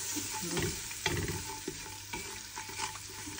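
Spices sizzle in ghee, butter and oil, a close steady frying crackle punctuated by several scraping stirring strokes, with no talking.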